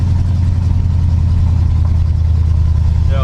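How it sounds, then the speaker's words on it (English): Cammed 305 V8 with 3-inch exhaust pipe and 12-inch glass pack mufflers, a loud, deep, steady rumbling drone close to the exhaust, with a brief voice at the very end. "3-inch pipe, 12-inch glass packs. Sounds pretty good."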